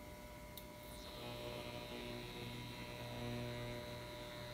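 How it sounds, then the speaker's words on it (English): Steady fan whir and electrical hum from a Frigidaire FGIC3066TB Gallery induction cooktop running power boil on its burners, a constant moderately loud drone with a brief whistle-like sweep near the start and no talking. "It is very noisy, just to let you know. But it's induction. There's a fan in there."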